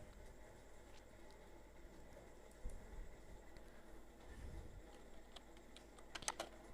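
Keys clatter on a computer keyboard as product description text is typed out, soft irregular clicks at close range over a quiet room, with a quick burst of presses near the end.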